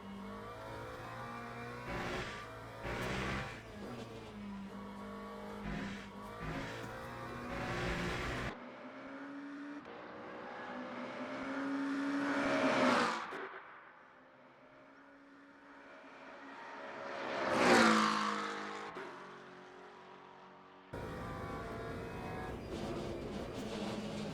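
A race car in Le Mans Ultimate revs hard around a track, engine climbing and dropping through gear changes, with two loud swelling surges as it spins through the last corner.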